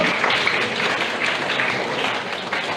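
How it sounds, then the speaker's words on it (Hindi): Loud, sustained clapping from an audience at a lecture event on the Ramayana, a dense continuous roar of many hands with no pause. "बेटा तालियां बजा दिया करो जोर से।"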